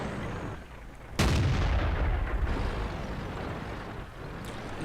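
A single loud, booming tank cannon shot from the Jagdtiger 8.8 in World of Tanks, with a long rumbling decay that fades into a steady low engine drone and distant battle ambience.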